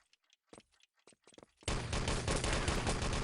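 Sustained automatic gunfire in the shooter Enemy Territory erupts loudly and continuously after a handful of quieter scattered clicks and shots, during a 3on3 LAN tournament match.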